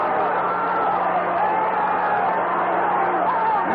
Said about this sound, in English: Now there's Ali in the corner with Lubbers trying to pummel him, and the crowd getting excited